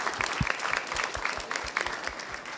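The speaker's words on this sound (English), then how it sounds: "So I would like to ask you for a round of applause for my speakers." Applause from an audience at a COP climate-change transparency event, a steady round of clapping sustained throughout at moderate level with scattered sharper claps.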